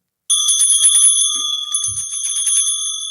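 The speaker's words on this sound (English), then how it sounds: "Church bell, communion bell." A communion bell, the Eucharistic bell rung at mass, rings out loud and close with bright sustained metallic tones, a rapid shimmering cluster of strikes that keeps sounding for about three seconds, with no voices.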